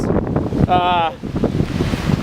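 Strong 30 to 40 mph headwind and choppy 1.5 to 2 foot waves while paddling on the Alsek, roaring steadily against the microphone, with muffled voices and a brief tonal whine partway through.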